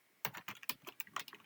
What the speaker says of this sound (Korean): 타이핑 치는 게 힘들어서 그렇지